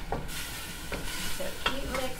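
Minced garlic sizzling in a pan on a gas stove, a constant close frying hiss with a few light scrapes of stirring spread through it.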